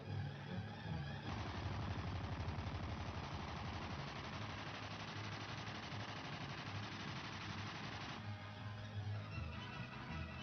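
Sustained rapid machine gun fire from a WWII Messerschmitt Bf 109 fighter's guns, a dense continuous burst rattling on for most of the span, loud and alone with no talk.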